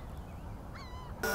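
Geese or similar fowl honking near a flying Hubsan Zino 2 drone: a short run of nasal honking calls over a steady low background hum, followed by a sudden loud burst of noise.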